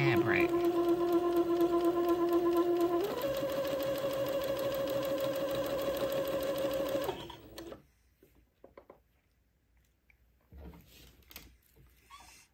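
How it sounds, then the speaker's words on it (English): A sewing machine stitches fabric a fixed eighth of an inch from the edge in a steady, close mechanical whir that shifts pitch partway through, then stops, leaving faint handling noises. "Now I'll continue sewing at 1/8 of an inch away from the edge of the fabric."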